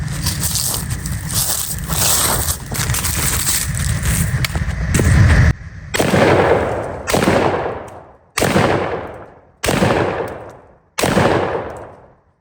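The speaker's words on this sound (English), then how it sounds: "This is the 1187. Shoots great." A Remington 11-87 semi-automatic shotgun fires five loud, close shots, spaced roughly a second apart, each blast ringing out and decaying before the next, with a busy clatter of handling noise beforehand.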